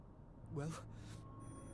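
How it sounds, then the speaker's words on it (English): A telephone bell rings faintly in a quiet room during a tense scene at Galley House, a short burst of ringing over steady low background hum, with no voices over it. "the phone's ringing again"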